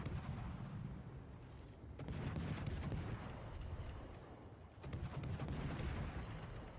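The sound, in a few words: Kitakaze warship guns firing HE shells in a video game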